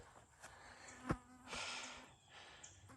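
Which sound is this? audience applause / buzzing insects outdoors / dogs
buzzing insects outdoors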